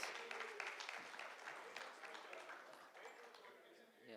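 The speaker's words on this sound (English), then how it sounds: "A huge round of applause for the speakers." A crowd at a business summit session claps steadily for the speakers in a dense, sustained round of applause that gradually thins toward the end.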